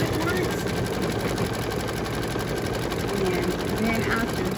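An embroidery machine stitches lettering onto a mug rug in the hoop, a dense, even mechanical whirr running steadily and close throughout.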